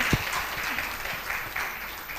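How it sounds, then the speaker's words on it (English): Applause for the Ambassador of Ukraine at a public lecture in Sumatra, a fairly faint patter of clapping from a seated audience lasting a couple of seconds. "So please give also big applause to him"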